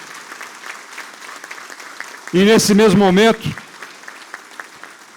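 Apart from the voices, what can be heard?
applause for the director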